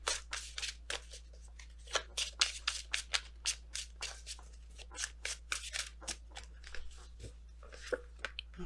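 Tarot cards being handled and shuffled during a love reading, a quick run of close, crisp card snaps and soft riffles against a quiet room with a steady low hum, no talking.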